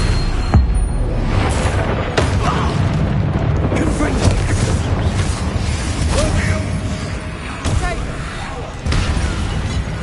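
Bombarda spell explosions in the video game Hogwarts Legacy, loud booming blasts and crackling bursts over a heavy rumbling battle din, with several sharp impacts spaced through the fight.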